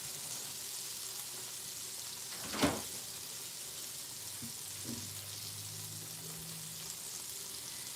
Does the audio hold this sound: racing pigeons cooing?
no